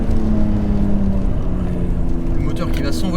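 A BMW Z3M Coupé engine pulls hard and climbs in revs, a loud droning tone rising in pitch over a few seconds, with wind noise and someone talking over it.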